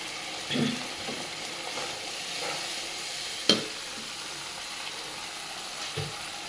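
Chicken is fried with tomato and spices in a pan. A quiet, steady sizzle is broken by a few soft stirring scrapes and one sharp knock of the spoon.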